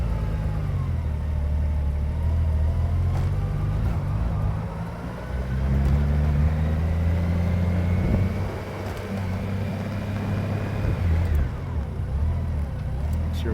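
A motorcycle on its first ride of the year, ridden easy as the rider gets a feel for the machine again, gives a steady, loud engine drone with low rumble and shifting revs throughout, joined by wind noise.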